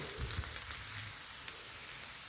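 Cauliflower fry sizzling in oil in a pan, a steady close crackle with scattered sharper pops and no voices.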